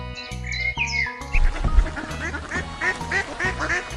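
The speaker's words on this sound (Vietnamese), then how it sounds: "Con ngan." Muscovy duck calls, a run of quacking and squawky bird notes over a steady low-pitched musical backing, loud and close throughout.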